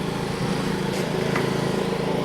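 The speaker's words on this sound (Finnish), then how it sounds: "Joku tulee jonkun ruohonleikkurin kanssa." Lawn mower engine running nearby at a pony stable, a steady, loud droning hum that holds its level throughout with little variation.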